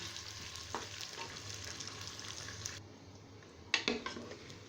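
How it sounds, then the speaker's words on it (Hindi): Onions with whole spices sizzling in hot oil in a pan for mutton korma, a steady close crackling hiss with a few spoon knocks and stirring scrapes, the frying briefly dipping before flaring again. "अब हम इनको अच्छी तरह से भून लेंगे। प्याज को हमने गोल्डन ब्राउन करना है।"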